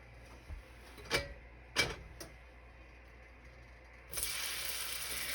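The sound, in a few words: food sizzling as it fries in a pan of hot oil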